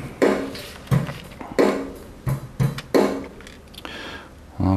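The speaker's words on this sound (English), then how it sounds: "drum track sounds like this at this point." A simple programmed drum loop from Sonar's Session Drummer plays alone, with kick and snare hits recurring in an even pattern, sharp attacks and noisy cymbal wash in between, close and moderately loud.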